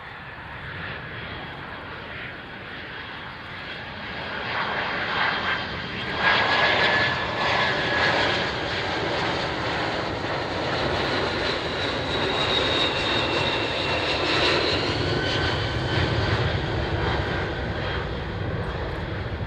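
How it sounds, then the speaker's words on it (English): A Lockheed TriStar airliner going around, its engines roaring in a loud, sustained broadband rumble with a rising whine that swells slightly and holds steady, heard from a distance without any talking. "TriStar's going around."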